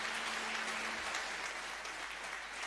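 Audience applause at the Sējējs 2025 awards ceremony, a steady dense wash of clapping from a large crowd, sustained evenly throughout at moderate distance, with no voices over it.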